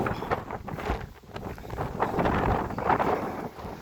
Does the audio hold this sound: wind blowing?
yes